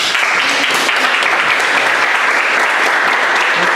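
Loud, dense audience applause fills an evening event at Impact Hub, a continuous wash of many hands clapping close by for the whole stretch.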